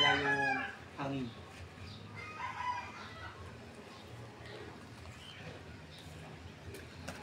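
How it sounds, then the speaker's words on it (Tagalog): A rooster crows loudly and close at the start, then scattered clucks and fowl noises continue over a low steady background hum. "yung manok natin, oh"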